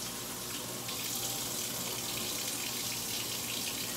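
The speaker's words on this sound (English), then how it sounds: "I'm gonna wash my hands since I blew my nose." Tap water runs steadily into a sink while hands are washed, a close, loud, continuous hiss and splash with no break over the few seconds.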